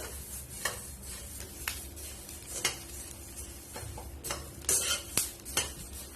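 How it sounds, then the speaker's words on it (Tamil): Coriander seeds dry-roasting in a pan give light crackles and scattered metallic scrapes and taps as they are stirred, near and moderately quiet, with no one talking. "மல்லி வறுபடுற சத்தம் கேக்குது பாருங்க. ஒரு மாதிரி பொரியிற மாதிரி படப்படான்னு சத்தம் வரும்."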